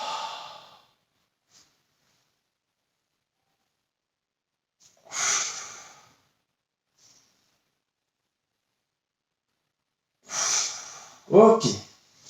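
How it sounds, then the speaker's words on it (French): Deep breathing during a Pilates class: three slow, audible breaths spaced several seconds apart, with near-silence between them and a short voiced sound at the end. "Inspire, ouvre, expire"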